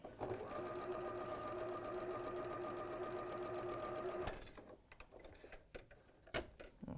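A home sewing machine runs steadily for about four seconds with a fast, even mechanical rhythm, then stops, leaving scattered clicks and light handling noises.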